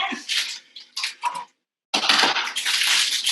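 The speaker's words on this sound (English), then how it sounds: "I hear my water boiling, so I'm going to pour the orzo in so that can keep going" Dry orzo pasta is poured into a pot of boiling water in a home kitchen, a close rushing, rattling pour in bursts, a brief pause, then a longer steady hiss and bubble.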